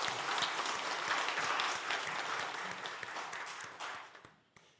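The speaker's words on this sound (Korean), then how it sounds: "우리 감사 박수 한번 합시다" A church congregation at a Sunday morning service applauds its choir, a dense wash of clapping from many hands that holds steady, then thins and fades out near the end.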